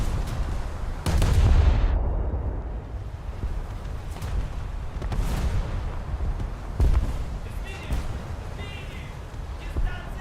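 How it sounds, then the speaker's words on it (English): Heavy naval gunfire from a warship battle video game featuring the Soviet cruiser Voroshilov: booming shell impacts and muffled blasts against the hull, several heavy thuds spread across the stretch over a low rumbling background. "Something keeps shooting holes in my hull, and I don't like it."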